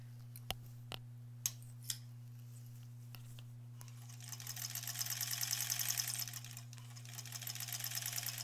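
A sewing machine finishes stitching a zipper pouch. A few sharp clicks give way to a steady, close mechanical whir over a constant low hum, with no talking.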